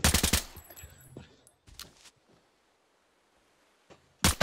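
Gunfire in the Arena Breakout video game: a rapid, loud burst of shots at the start, a few scattered quieter reports in the middle, and another sharp burst at the end.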